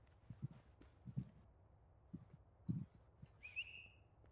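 A player character whistles briefly near the end in the survival game Miscreated, a short bright whistle after several soft thuds of footsteps, with no talking over it.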